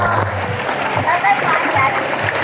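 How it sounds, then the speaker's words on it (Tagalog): Strong floodwater current rushing and splashing during a flood, a steady broadband wash that runs throughout with someone talking over it. "Lakas ang agos dito."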